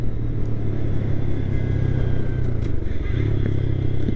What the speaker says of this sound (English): I've been driving this bike for 2 hours already around there